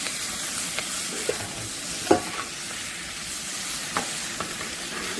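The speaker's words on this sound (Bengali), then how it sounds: "কি সুন্দর কষানো হচ্ছে কাঠের উনুনে, কাঠে এই কি মাটির কড়াইতে রান্না" A fish and potato curry with tomato and chilli sizzles in a clay pan over a wood-fired stove, a constant frying hiss punctuated by a few quick stirring scrapes and clinks.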